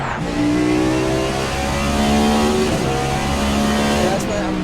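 Cadillac prototype race car engine in a Long Beach endurance racing game, droning steadily with a rising rev near the end, heard beneath a voice.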